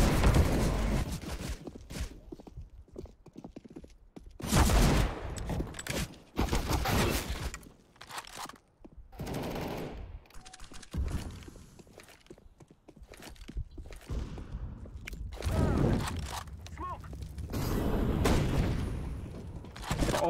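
Bursts of video game gunfire crack in clustered volleys with louder peaks, alongside footstep-like thuds, and no talk over it.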